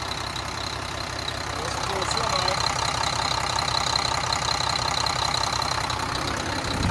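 A 2010 Volvo truck engine idling with its fan clutch engaged: a steady low rumble and close mechanical clatter, with a constant whirring roar layered on top and a voice faintly under it.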